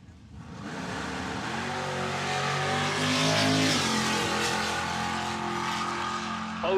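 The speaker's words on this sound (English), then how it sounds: "next will be Colton Talbert, Gen 3 Chevrolet Camaro from Montezuma" A Gen 3 Chevrolet Camaro funny car makes a racing run at a nitro drag event, its engine a loud, sustained roar that rises in pitch and then shifts as it passes, with no talk over it.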